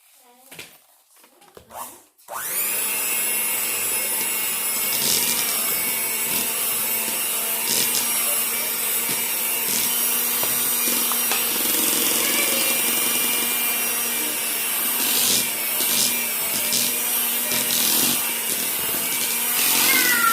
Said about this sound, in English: before I turn on my mixer